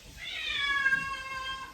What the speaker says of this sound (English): my other cat is getting a bath.